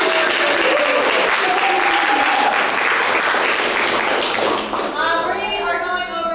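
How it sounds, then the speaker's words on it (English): Applause from a class audience during an anatomy lecture, a steady wash of clapping that tapers near the end, with a voice talking over it. "So, round of applause for us."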